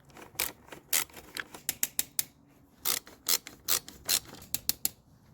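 A wrench ratchets off the 8 mm carburetor nuts on a Stihl BG85 leaf blower that won't start, a quick series of close, crisp ratcheting clicks in short uneven bursts with no speech.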